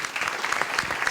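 A brief stretch of steady crowd applause fills a student awards ceremony hall, dense and moderately loud with no voices over it.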